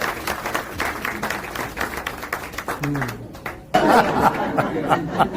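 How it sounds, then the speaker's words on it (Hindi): Audience applause at a poetry gathering in Delhi honouring Vajpayee, bursts of clapping mixed with chatter and light laughter, a speaking voice weaving through and a fuller swell near the end. "एक बार पूरा सदन अभिनंदन की तालियां बजाते थे वाजपेयी जी के लिए"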